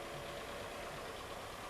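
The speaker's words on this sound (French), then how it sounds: "puis on démarre le moteur et l'on monte le régime aux alentours de 1000 tours minute" Austin Metro engine idling near 1000 rpm with the air filter removed, heard as a steady, dense mechanical hum that holds at an even level throughout, close and unbroken, with no voices.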